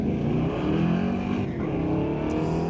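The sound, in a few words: Chevelle and Mustang drag racing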